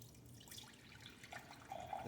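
Water pours and splashes into a pan of cooked meat, a soft, faint trickle that swells louder toward the end, with no talking.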